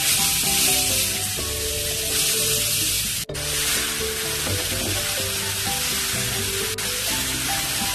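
Grated beetroot halwa sizzles in hot ghee in a pan, a loud, continuous frying hiss with scraping stir sounds and a couple of brief sharp knocks, close up and without speech.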